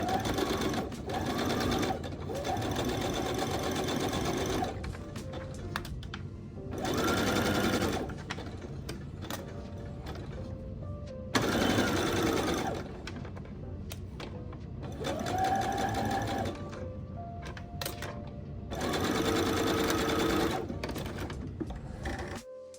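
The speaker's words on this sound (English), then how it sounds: "Let's take it to the machine using a straight stitch." A sewing machine straight-stitches a dart on a long-sleeve knit top, running in several loud steady bursts separated by short pauses, with brief backstitching at the wide end.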